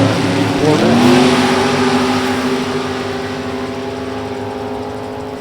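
Drag racing cars, an Oldsmobile and a Corvette, roar loudly down the strip at Beech Bend, engines revving hard then sustaining a steady high drone that slowly fades as they pull away.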